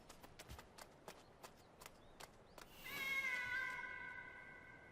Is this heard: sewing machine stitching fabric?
no